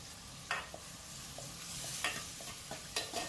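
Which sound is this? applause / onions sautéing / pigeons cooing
onions sautéing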